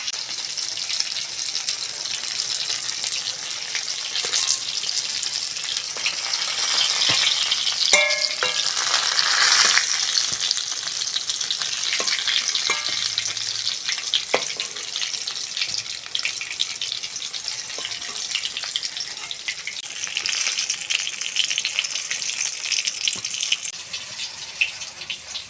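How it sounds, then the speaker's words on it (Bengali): Eggplant slices frying in oil for a Bengali mustard fish curry, a steady close sizzle and crackle with occasional stirring clinks, continuous and moderately loud throughout with no talking. "বেগুনগুলো লাল লাল করে ভেজে নিয়েছি"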